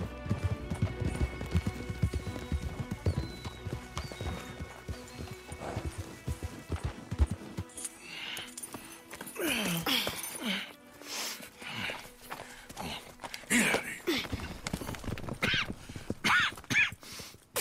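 Rapid hoofbeats of horses galloping in the video game Red Dead Redemption 2, with clattering clip-clop rhythms and an occasional whinny, loud and close, shifting in intensity throughout.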